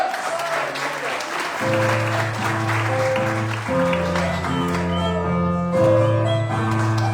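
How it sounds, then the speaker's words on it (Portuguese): A church congregation applauds during a celebration service, steady clapping running under loud sustained organ or keyboard chords and music for the full stretch. "Vamos aplaudir o Senhor."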